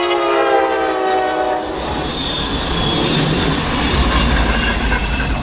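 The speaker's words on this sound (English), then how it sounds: "Look at that big old train up there." A big freight train rolls past with loud, steady rumble and wheel noise, its horn sounding strongly over the first couple of seconds before the continuous clatter of the cars carries on.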